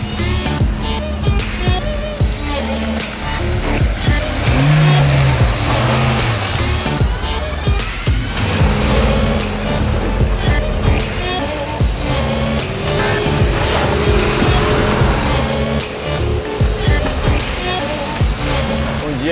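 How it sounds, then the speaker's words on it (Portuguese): A Suzuki Jimny Sierra drives an off-road trail, its engine rumbling and revving steadily up close, with jolts and rattles from the rough ground throughout. "vamos ver então como é que é o Jimny Sierra numa trilhazinha aqui no Box 54"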